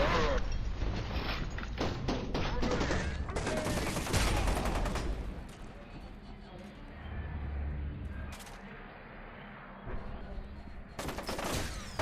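Rapid bursts of gunfire in the first-person shooter F.E.A.R. 2: Project Origin, loud rattling volleys early on, then quieter stretches with occasional later shots, while people talk over the game.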